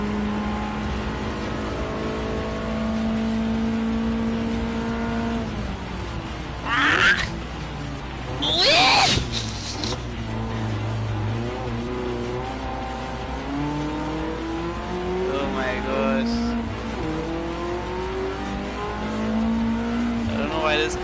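A race car's engine drones and revs in Gran Turismo 7, its pitch climbing and falling through gear changes with brief tire squeal bursts, continuous and close while a voice talks over it.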